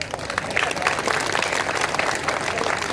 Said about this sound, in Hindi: अभी भी आपकी तालियां कमजोर है।